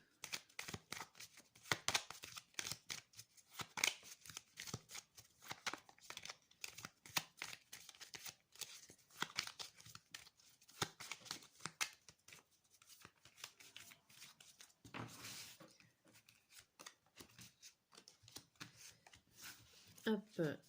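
Oracle cards being shuffled by hand, a long run of quick papery riffles and flicks at close range, with a voice talking intermittently over them.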